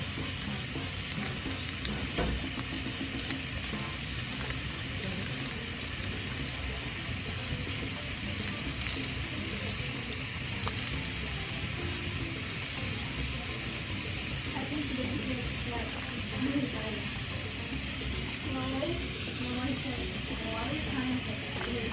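Chorizo simmering with a pot of charro beans gives a steady, close sizzle and bubbling hiss that runs unbroken throughout, with faint stirring and a voice talking softly underneath.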